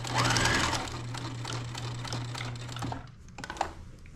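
Sewing machine stitching fabric Halloween placemats, a steady close mechanical whir running for about three seconds before stopping, followed by a few light clicks and taps.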